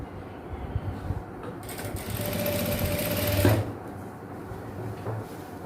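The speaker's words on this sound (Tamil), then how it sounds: "இப்படியே வச்சு நம்மளோட பிளாக் கிளாத்தில் ஸ்டிச் போட்டுக்கலாம்" A sewing machine stitches piping onto black cloth for girls' night shorts. It gives a steady, close mechanical whir that swells louder in the middle and then eases back to a softer hum.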